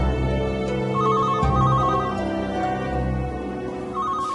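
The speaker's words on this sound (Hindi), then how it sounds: "फातिमा, बेटा जरा फोन तो सुनना।" A telephone rings with a warbling electronic trill, twice in short bursts, over a low background hum.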